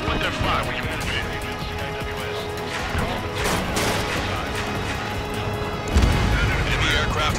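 Enemy fleet anti-aircraft fire in the flight combat game Ace Combat 7, dense continuous booms and flak bursts under a steady jet roar, with a heavy blast near the end and radio voices talking over it.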